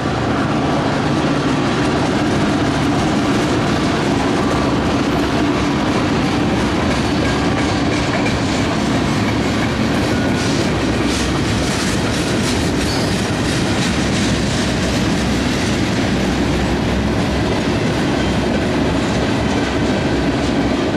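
A Norfolk Southern local freight train made up entirely of tank cars rolls past nearby, with a loud, continuous rumble and rhythmic clickety-clack of wheels over rail joints and faint wheel squeal, no voices.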